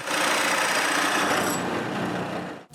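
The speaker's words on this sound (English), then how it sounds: "Then I can drill all 7 holes." A drill press bores a hole through a wooden ring for a wooden cryptex, a steady close whirring drone that stops abruptly near the end, with no talk.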